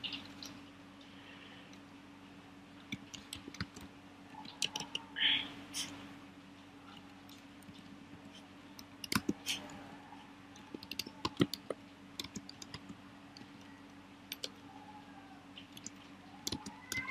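Sparse clicks and short bursts of computer keyboard typing while writing code, faint and irregular over a low steady hum, with quiet pauses between bursts.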